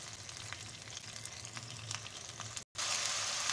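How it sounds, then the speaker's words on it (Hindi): Onions fry in a pan with a steady, close, dense sizzle and crackle that carries on throughout, broken by one very brief dropout. "इसको करते हैं फ्राई। तकरीबन एक से दो मिनट हम प्याज को फ्राई करेंगे।"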